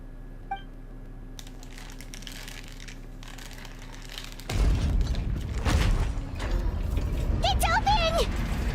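A sluice gate mechanism in a video game grinds open with a sudden heavy mechanical rumble and clatter after a quiet stretch, followed by scraping and rattling, with a faint voice-like tone near the end.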